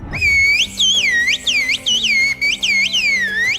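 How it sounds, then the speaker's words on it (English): Shrill, melodic whistling with rapid swooping pitch glides, broken into short phrases with brief gaps, like communicative whistled speech. "Whistled language."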